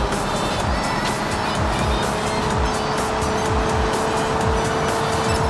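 A car in a racing video game revs hard and continuously, its engine pitch climbing and dropping through repeated gear shifts while tires squeal, loud and close throughout.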